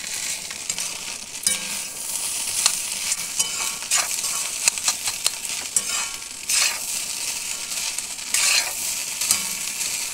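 Food frying in a pan is stirred, with loud continuous sizzling and repeated scraping strokes of a utensil close by.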